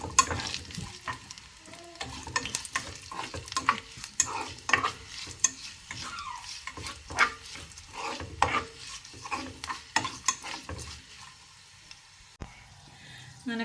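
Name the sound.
mustard seeds and chillies frying for carrot pachadi tempering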